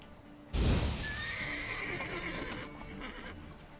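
Roach, the horse in the video game The Witcher 3, gives a loud, close neigh that rises sharply and trails off over a few seconds, with a faint clatter underneath.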